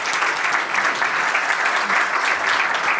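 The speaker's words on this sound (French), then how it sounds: "J'aimerais qu'on les applaudisse bien fort." Conference attendees give a sustained burst of applause, many hands clapping in a dense, even wash that stays loud throughout the three seconds.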